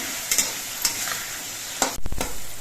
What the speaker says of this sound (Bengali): এবার আলুগুলো এই মশলা দিয়ে কিছুক্ষণ কষিয়ে নিতে হবে